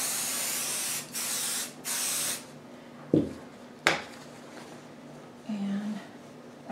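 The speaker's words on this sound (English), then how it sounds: "So now my next step is I'm going to fold the top section and spray baste it." Basting adhesive sprays onto a quilt in three bursts of hissing aerosol, close and fairly loud, followed by a few soft thumps and fabric rubbing as the layers are handled.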